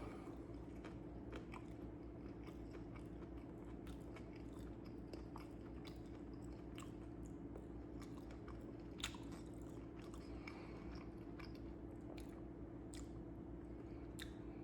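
A rabbit heart is chewed close to the mouth, giving soft, wet biting and squishing sounds that repeat steadily over a constant low background hum, with no talking.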